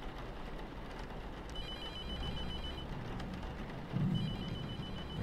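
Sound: telephone ringing in The Mortuary Assistant video game

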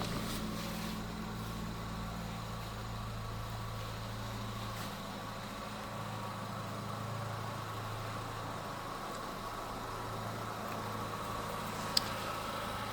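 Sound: Chevrolet Cruze 1.4 turbo engine idling

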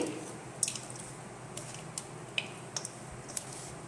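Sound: mixing lemon sesame rice by hand

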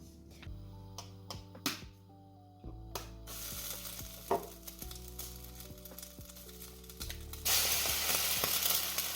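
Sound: eggs and sausage frying in a pan for an omelette

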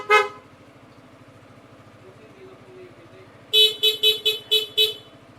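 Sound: car horn being tested

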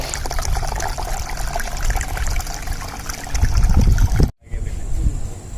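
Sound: water falling from an indoor water feature in a hall

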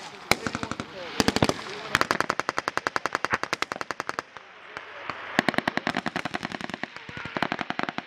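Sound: U.S. Marines live-fire gunfire during training

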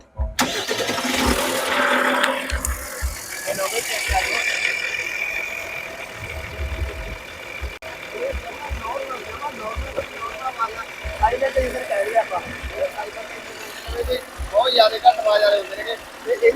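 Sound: 140 hp Eicher truck engine starting and idling

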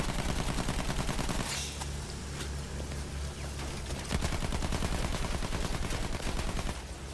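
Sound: gunfire in video game Battlefield 1

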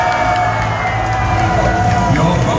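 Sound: audience cheering and shouting votes at a live show

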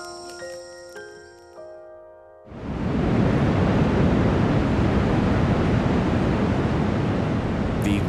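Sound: Iguazu waterfalls roaring

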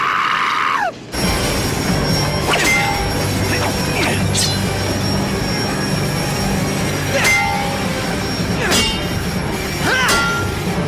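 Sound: out-of-control train in a cartoon

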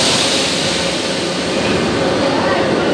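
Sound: Moscow metro train departing from the station

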